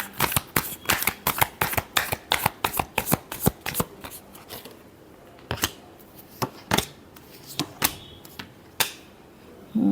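Tarot cards are shuffled close up in rapid crisp riffling bursts that thin out into sparser slaps and flicks, loud and alone without talk.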